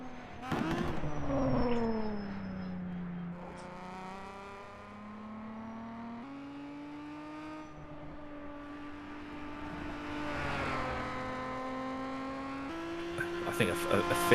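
Historic 2-liter race cars, including a Bristol, run the Targa Florio road course. Engine notes rise and fall as cars accelerate past, with a loud pass near the start and another building toward the end.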